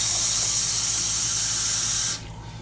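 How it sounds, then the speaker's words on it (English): Cold water pours from a kitchen sink tap into a small pan, a steady bright hiss that cuts off abruptly near the end, leaving a quiet room. "This is going to be cold water right out of the sink."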